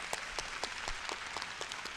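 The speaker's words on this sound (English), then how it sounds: "Let's give another round of applause for our wonderful panelists." Scattered audience applause for a panel at a community event in Birmingham, with a handful of separate claps ringing out at a steady rhythm, faint and thin, as though from a small crowd.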